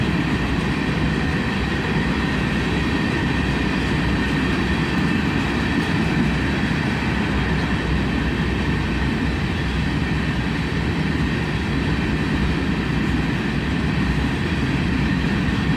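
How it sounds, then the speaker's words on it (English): A CSX freight train led by ES44DC and ES44AH locomotives rolls past, a steady, loud rumble of wheels and wagons with faint clickety-clack throughout. "A pair of ES44 DCs and an ES44 ACH."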